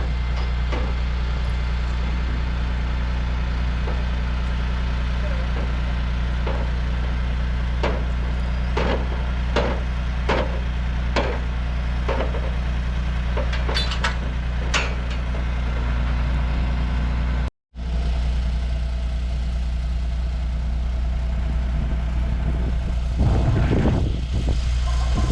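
A truck engine idles steadily at a residential basement construction site, its low rumble continuous throughout while sharp knocks and clanks of concrete forms being handled sound over it.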